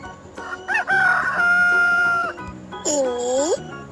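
A rooster crows loudly and close by in a long drawn-out cock-a-doodle-doo, with a second shorter call after a brief pause, and a voice speaks under it.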